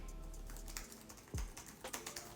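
Typing on a BTEC Mac-style keyboard with silent-click keys: a close flurry of soft, muffled keystrokes at an uneven pace, with a brief low thump partway through.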